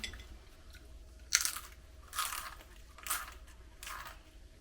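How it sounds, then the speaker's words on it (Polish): Crispy Turkish yufka pastry is bitten and chewed close to the mic, giving four quiet, separate crunches spaced about a second apart against near silence. "Nie wiem, czy słyszeliście, jak to chrupie."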